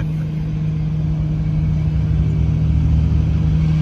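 A 1977 Jeep CJ5 engine drones steadily while driving, a loud, close, low rumble with a constant hum and slight rising revs, no talking.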